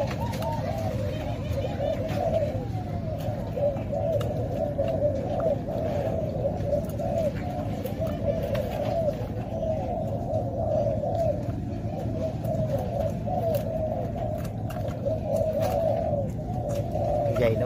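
Doves or pigeons coo continuously in a repeating, rolling rhythm over a steady low background hum.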